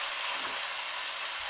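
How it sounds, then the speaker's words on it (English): Chicken wings frying in hot oil, a dense, steady hiss of sizzling and bubbling with fine popping, close and continuous throughout without any voices. "As you hear that stuff popping and boiling and blah, blah, blah, blah, that's wings I have fried in the back"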